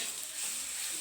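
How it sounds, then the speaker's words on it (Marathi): Onion fries on a hot griddle pan (tava), a soft, steady hiss of sizzling oil, close and continuous, with no talking. "गव्हाचा कांदा टाकला तव्यावर"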